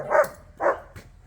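A dog by a truck gives three short, sharp barks with even gaps between them, close and loud, with no talking.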